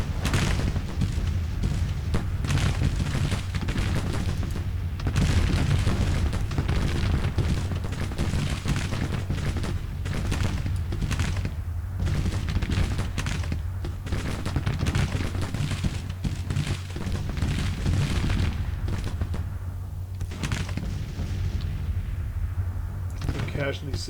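Artillery fire in the Civil War strategy game Grand Tactician rolls on without pause: dense, loud booms and rumbling volleys overlap into a continuous roar of battle.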